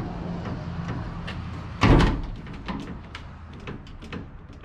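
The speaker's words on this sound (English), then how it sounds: "Let's get this pristine door open here." A car door on a custom-painted old vehicle is pulled open with one loud metallic clunk, followed by lighter rattles and clicks over a steady background hum.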